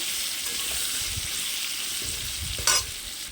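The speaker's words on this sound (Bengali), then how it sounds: "এবার এগুলোকে ভালো লাল লাল করে ভেজে নিতে হবে।" Continuous close sizzle of potatoes frying in hot oil, with a brief stirring clatter near the end, no voices.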